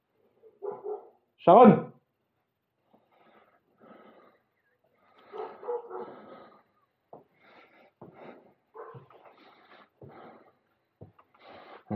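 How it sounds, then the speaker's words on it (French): A pet dog gives a few sharp barks and snorts indoors in a house, one loud bark standing out early, with a person talking in between. "On entend mon chien qui aboie."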